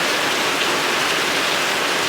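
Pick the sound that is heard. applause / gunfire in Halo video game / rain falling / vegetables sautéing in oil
rain falling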